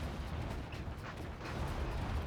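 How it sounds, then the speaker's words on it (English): Explosions from the real-time strategy game Act of Aggression during a refinery attack, a dense continuous rumble of low booms and bursts running for a couple of seconds, fairly quiet and without speech. "hearing explosions"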